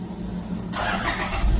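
A car engine cranks and catches, a low rumble rising after a short quiet moment and settling into a steady run nearby.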